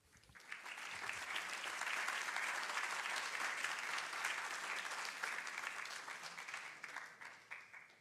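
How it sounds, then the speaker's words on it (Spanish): An audience breaks into sustained, dense applause welcoming a doctor at a talk on deprescribing for older people, swelling within a second and holding steady before tapering toward the end. "Les invito a recibir a la doctora con un fuerte aplauso."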